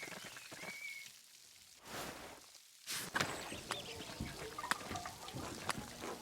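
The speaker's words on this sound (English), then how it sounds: "Well, no one's outside, obviously, because it's raining." Steady rain falls in the video game Pentiment, a broadband hiss with scattered droplet ticks that fades briefly and then returns louder, with no voices.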